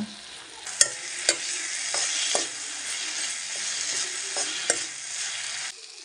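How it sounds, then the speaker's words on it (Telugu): Green chillies fry in hot oil in a pan for a tribal village-style curry leaf chutney, a steady soft sizzle broken by several sharp clinks of a spoon stirring against the pan. "పచ్చిమిర్చి అన్నీ కలిపి ఒకేసారి వేపిస్తున్నాం ఫ్రెండ్స్"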